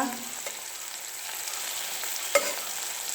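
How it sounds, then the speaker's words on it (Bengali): Tomato and green chili frying in a pan, a quiet continuous sizzle with occasional light clinks of a spoon stirring, no one talking. "দেখো টমেটো ফ্রাই হচ্ছে, লঙ্কা"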